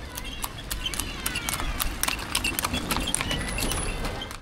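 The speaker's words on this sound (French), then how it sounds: "c'est une charrette tirée avec des chevaux." Hooves of horses pulling a cart clip-clop steadily along a street in Cuba, crisp repeated strikes close by over a busy outdoor background.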